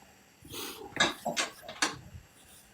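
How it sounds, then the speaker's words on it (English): A small dog indoors makes a few short snuffling, whimpering yelps close by, in quick irregular bursts over quiet background. "Little dog."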